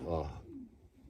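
A single short, low coo from a racing pigeon in a loft, close and soft, fading out within about a second.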